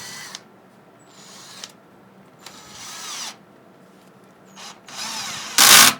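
A 12V battery drill set to gear 1 drives a screw in several short bursts of whirring, each a second or less, separated by pauses, and ends in a louder final burst as the screw tightens.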